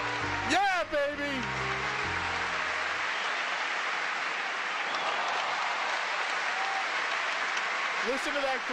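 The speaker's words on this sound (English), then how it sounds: "Listen to that crowd. The crowd is going wild." A large crowd cheers and applauds wildly in a dense, sustained roar, with a voice briefly heard at the start and again at the end.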